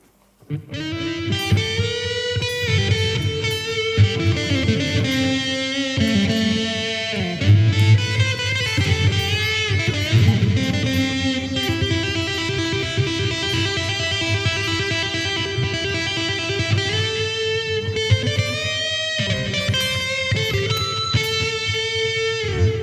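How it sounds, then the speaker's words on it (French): Electric guitar driven through a distortion pedal during a guitar masterclass, playing a loud, sustained, gritty run of chords and notes with a dense, saturated tone that continues steadily throughout, with no voice over it. "Ça, c'est ce qu'on appelle la distorsion."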